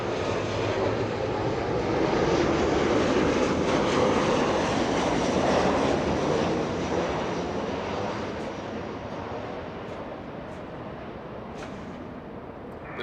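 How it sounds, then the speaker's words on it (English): A WestJet Boeing 737-800 from Vancouver at Los Angeles International Airport roars past with loud jet engine noise that swells, peaks and then slowly fades as it moves away. "WestJet 1696 from Vancouver. A 737-800."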